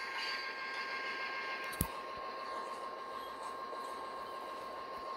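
A video game train in Train and Railyard Simulator, powered by an AC-44 locomotive, idles with a steady mechanical hum and a high whine, broken once by a sharp metallic clank.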